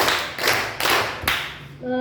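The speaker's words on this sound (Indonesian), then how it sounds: "Oke, tepuk tangan untuk kita semua. Tepuk 1, tepuk 3." Students in a classroom clap a patterned rhythm together, four sharp, distinct group claps spaced roughly half a second apart, close and crisp, followed by a brief tonal sound as the pattern ends.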